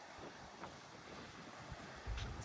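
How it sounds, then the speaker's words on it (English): Strong wind buffeting the microphone at an exposed hilltop campsite on the Yorke Peninsula, a continuous low roaring rumble with gusts that swell louder near the end and no talk. "We are on the windiest part of the hill there"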